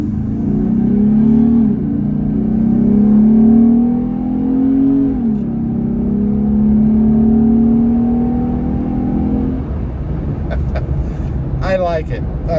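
Heard from inside the cab, a Jeep Gladiator fitted with a cold air intake revs in long rising and falling engine swells, loud and close, before settling into a rougher rumble.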